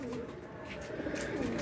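A pet pigeon kept by a hobbyist breeder coos softly nearby, its low throaty warbling continuing steadily against faint background noise.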